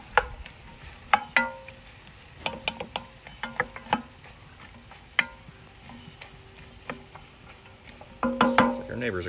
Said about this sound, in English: And stir those. We're mainly wanting to soften those onions.